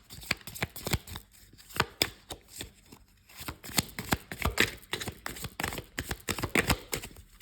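A deck of oracle cards is shuffled by hand up close: crisp riffling flicks and sharp slaps in quick irregular bursts, steady for several seconds with no talking.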